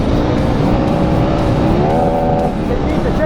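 A KTM 1290 Super Adventure R motorcycle, 160 horsepower, ridden through deep dune sand, its engine droning loudly and rising in revs near the microphone, with a steady rumble and rushing wind.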